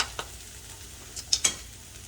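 Yellow bean sprouts being stir-fried in a pan, a quiet low sizzle broken by a few sharp scrapes and clinks of the utensil during a quick stir.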